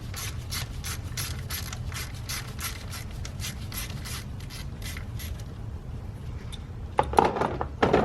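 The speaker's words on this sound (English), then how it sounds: "And then we get our size 10 socket or wrench" Socket wrench ratchet clicking steadily in quick repeated bursts while loosening a camshaft position sensor bolt on a 2012-2017 Toyota Camry XV50, close up, with a louder clatter near the end.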